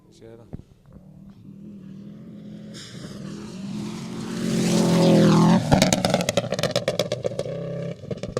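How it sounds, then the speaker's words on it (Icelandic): A rally car accelerates hard along a rally stage, its engine note climbing to a loud roaring peak as it passes close by, then fading with crackling pops while voices talk. "Gunnar Karl og Ísak að keyra virkilega grimmt"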